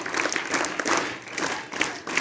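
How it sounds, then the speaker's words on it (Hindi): Students clapping for a visiting speaker at a school career counselling session, a scout-style clap heard as fairly dense clapping with recurring bursts and a brief dip in the middle. "सारे बच्चे सर के लिए स्काउट ताली बजाएंगे"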